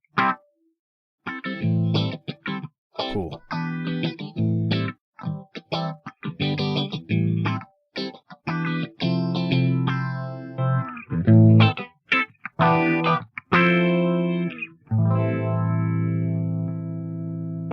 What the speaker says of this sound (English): The PH1 produces a mild phaser sound with a full low end response.